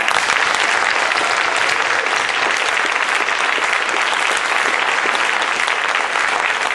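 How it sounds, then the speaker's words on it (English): A large crowd applauds a high school baseball player being honored, a dense, steady roar of clapping that stays loud and unbroken throughout. "Let's give him a big round of applause."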